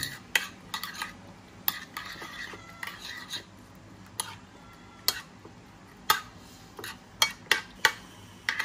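A utensil scrapes and clicks against a bowl while eggplant omelette ingredients are mixed, irregular sharp taps and clinks over a soft scraping bed, close and moderately loud, with no talking.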